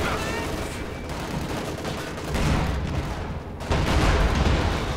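Tank gunfire in Company of Heroes 2 as a Panzer IV fights T-34-85s, with steady rumbling battle noise, heavy booms and rattling shots in a dense, continuous mix.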